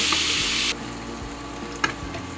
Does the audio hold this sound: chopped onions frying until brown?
yes